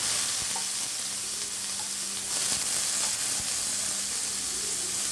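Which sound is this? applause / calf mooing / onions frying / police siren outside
onions frying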